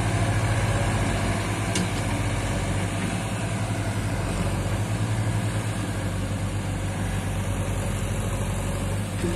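A Massey Ferguson 7250 50 HP tractor engine runs steadily at a low, heavy rumble, loud and continuous throughout with no talking.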